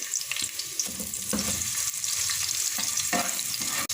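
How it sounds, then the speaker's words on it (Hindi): White parts of scallions fry in a hot pan with a steady, close sizzle, broken by several scrapes and stirs of a utensil through the pieces. "थोड़ा सा फ्राई करने के बाद पहले सफ़ेद वाला हिस्सा फ्राई करेंगे कि हल्का सा गुलाबी माइल सा हो जाए"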